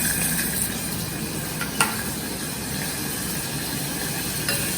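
Curry leaves, cinnamon and cloves sizzle in hot oil for a kadhi, a steady close crackling hiss throughout with one brief sharper pop near the middle.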